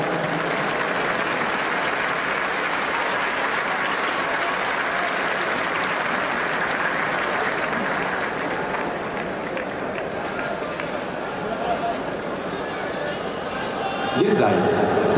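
Sustained applause from a large baseball stadium crowd welcoming Tokyo Governor Yoichi Masuzoe to throw the ceremonial first pitch at the 85th Intercity Baseball Tournament, a steady dense roar of clapping that holds for the whole stretch.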